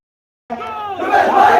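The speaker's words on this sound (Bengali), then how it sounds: "সেই শুক্রেলিতে তারা স্লোগান দিচ্ছে" A procession crowd at a rally chanting slogans together, a loud burst of massed voices that begins abruptly after a short silence and swells as it continues.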